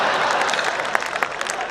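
An audience at a Hindi comic poetry recital (kavi sammelan) breaks into full applause that starts thick, then thins into scattered, sharper individual claps as it tapers off.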